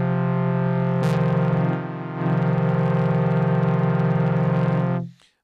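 A synthesizer drone is pushed through a distortion effect ahead of the filter, giving a sustained, buzzy, harmonically rich tone that dips briefly, returns, then cuts off cleanly.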